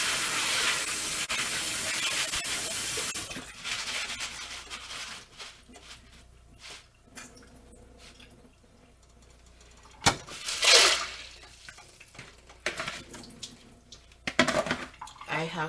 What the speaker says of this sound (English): As for my peas, I'm just going to wash it off in this.